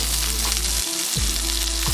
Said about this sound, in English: flip it and sear the skin part of the salmon for 3 minutes as well